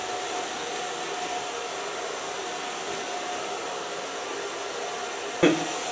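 A hair dryer fitted with a diffuser blows a steady, even rush of air while drying hair in a salon, ending with a brief click or knock near the end. No talk.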